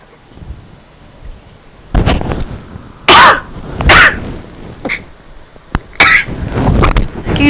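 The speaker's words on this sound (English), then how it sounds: "Excuse me for sneezing." A few loud, close sneezes break up a quiet room, irregularly spaced with breathy rustles between them.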